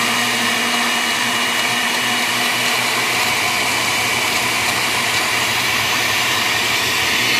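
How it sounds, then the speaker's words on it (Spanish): Blender blending papaya, a steady loud high-pitched motor whir running continuously and unchanging throughout, with no voices. "Ahora lo vamos a licuar bien."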